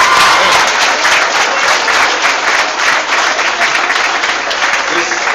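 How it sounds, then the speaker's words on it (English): A crowd at a National Signing Day event in the Prattville High School gathering claps loudly and steadily for the signing athletes, a dense sustained roar of applause filling the room for several seconds. "let's give these guys a round of applause"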